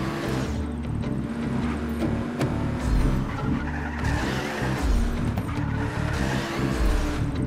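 Game car in Just Cause 3 slides and drifts with a continuous loud tire screech over a roaring engine, the squeal swelling and easing through several surges.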